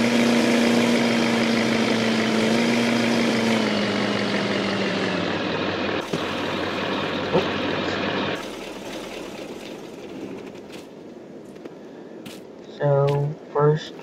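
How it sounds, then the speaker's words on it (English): A New Holland T8 435 tractor with dual wheels idles in Farming Simulator 15, a steady loud engine drone that drops to a quieter rumble midway, with brief clanks and a short burst of other mechanical noise near the end. "So first we got our New Holland T8 435 with the duals"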